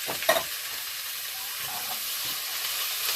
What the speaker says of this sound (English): And we're going to stir this around, let it cook until the onions get soft.